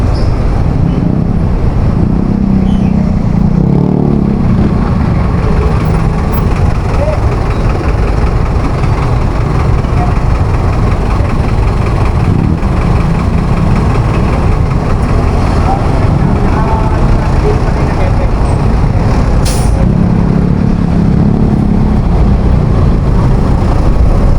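Heavy road traffic through Calamba roars loud and close during a long holiday ride: a constant dense rumble of cars and trucks, with a brief sharp hiss near the end.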